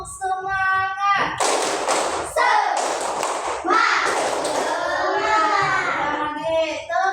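Classroom of children doing a rhythmic clapping chant, bursts of claps and thuds in time with shouted young voices, loud and close, with a teacher's voice leading before.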